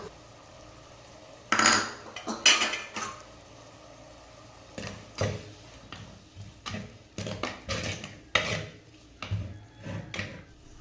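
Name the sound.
sautéing onion, tomato and spice powders in oil in a pan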